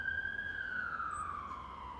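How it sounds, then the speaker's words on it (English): An ambulance siren sweeps past outdoors during a park yoga session, a steady high wail that slowly falls in pitch as it moves by, fairly loud and alone with no talk. "Just give that ambulance time."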